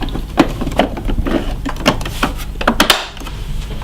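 A plastic filter compartment on a vacuum cleaner being shut, giving several close clicks and knocks in a quick, uneven run of handling sounds before a sudden drop to quiet.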